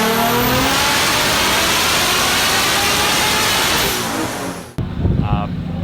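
A 1400-horsepower Toyota Supra with a Precision 8685 turbo on 50 psi boost and a stock six-speed manual revs hard and loud, a sustained roaring wail that cuts off abruptly near the end, followed by a brief rumble and a voice.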